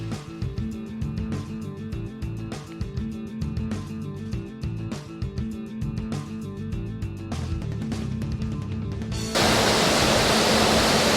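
Holmes Linn waterfall in Northumberland, heard as a loud, steady rush of falling water that surges in near the end, after a long stretch of quieter, rhythmic tonal sound.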